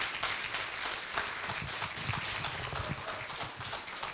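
A crowd at a spring potpourri event applauds its scholarship underwriters, a steady, dense wash of many hands clapping at a distance, fairly faint and unbroken for several seconds.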